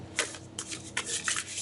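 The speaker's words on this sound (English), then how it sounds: "This is a heart-shaped deck, which is like challenging to shuffle, but I'm kind of used to it." A heart-shaped tarot card deck is shuffled close up in quick, soft bursts of riffling and sliding cards with short pauses between, heard alone in a quiet room.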